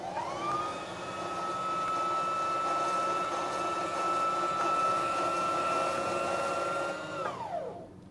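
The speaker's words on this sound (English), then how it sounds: "When you have several wraps around the bobbin, trim off the excess that goes through the hole, and then you can finish winding the bobbin." Sewing machine winding a bobbin, a steady high whirring hum that rises at the start, holds an even pitch for about seven seconds, then winds down and stops.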